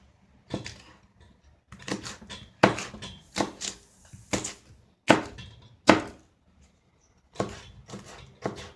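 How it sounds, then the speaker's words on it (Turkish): Knife chopping green peppers on a board in uneven bursts of sharp, close thunks, with a short pause before a final flurry of cuts. "Yeşil biberlerimi doğrayacağım şimdi de."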